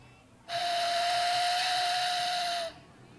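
A Native American whistle imitates wind with one sustained, breathy, airy tone that holds steady for about two seconds before stopping, heard alone against a quiet background.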